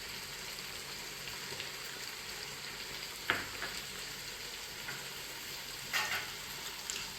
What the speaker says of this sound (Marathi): त्यामध्ये आता हे काढलेलं मटण पुन्हा ह्यात परतून घ्यायचं आहे.